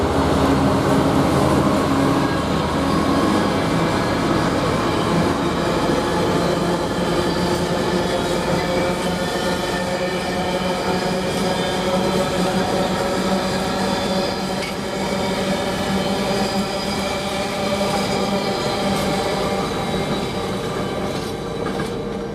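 Freightliner Class 66 freight locomotive 66602 hauling wagons past a railway station, a loud, steady rumble of wheels with rhythmic clatter and faint squeal continuing throughout.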